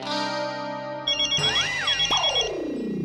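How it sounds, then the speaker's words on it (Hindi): A mobile phone ringtone plays a short electronic melody of bright, chiming notes, clear and close, with a rising and falling tune. "अब किसका फोन है?"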